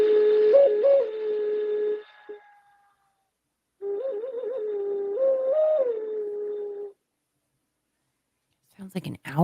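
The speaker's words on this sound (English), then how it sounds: "There's this that's like a skull that's a whistle as well, and it sounds really great." A skull-shaped stone whistle gives sustained, hollow owl-like tones with small pitch wobbles, in two long blows separated by a pause, close and clear, followed by brief talk.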